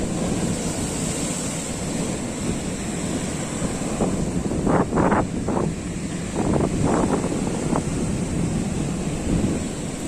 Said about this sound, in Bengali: দেখতে দেখছো উত্তাল সমুদ্র পুরো একদম তার তাণ্ডব চালাচ্ছে